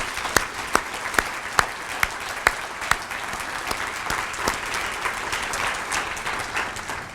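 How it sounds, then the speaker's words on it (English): Audience applause for city employees at a chamber State of the City event, beginning with a few sharp individual claps that quickly swell into steady crowd clapping. "I would just like you to join me in a round of applause for our wonderful employees"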